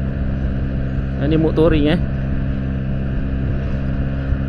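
A Yamaha T-Max scooter engine in touring mode hums as a steady low drone during a short test ride, continuous throughout with a brief spoken phrase over it.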